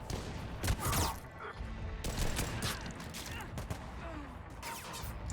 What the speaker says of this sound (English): They're firing on each other.